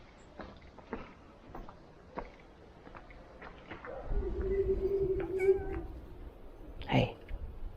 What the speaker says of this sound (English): And of course, there's cats on every corner.